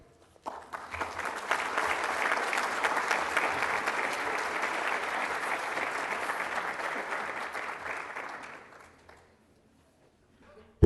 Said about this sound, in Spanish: Les pido un fuerte aplauso para el maestro Roberto Ivanschutz Hartmann.